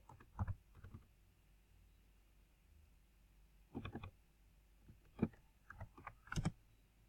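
Computer keyboard keys tapped in short, uneven bursts of close clicks separated by pauses, as a web address is entered in a browser search bar, with no voices.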